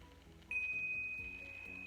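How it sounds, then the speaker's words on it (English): A single small bell rings clearly with a bright sustained tone that slowly fades, heard over quiet soft background sound. "when you hear me ring my bell 3 times"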